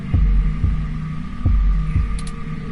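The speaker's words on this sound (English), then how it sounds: "Your heartbeat is like sonar to me. The louder it pounds, the faster I race to stop it." A heartbeat sound effect pounds in a slow, regular double thump, deep and loud over a low steady hum, with about five beats in a row.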